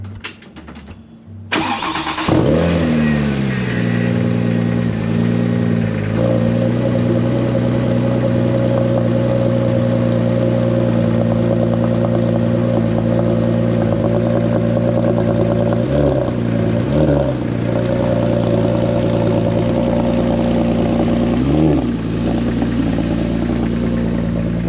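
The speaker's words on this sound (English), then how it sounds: "we're going to go move the turbo Porsche, get that out of the way" Turbo Porsche engine cranks and catches after a moment of quiet, then settles into a loud, steady close idle with a few brief revs or dips along the way.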